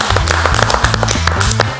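Studio audience applause greeting a guest on a Macedonian cooking show, a steady wash of close claps over low, sustained musical tones, with no voices.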